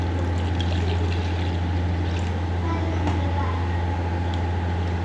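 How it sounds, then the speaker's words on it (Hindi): Water is poured into coloured flour dough while making colourful savaiya in a home kitchen, giving a steady, continuous rushing pour over a low background hum, fairly close and loud throughout. "इसके अंदर थोड़ा सा पानी ऐड करेंगे"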